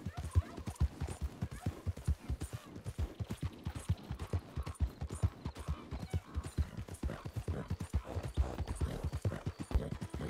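Horse hooves clip-clop in a steady, fast rhythm from a ridden horse in the video game Red Dead Redemption 2, with brief whinnies mixed in; loud and close throughout.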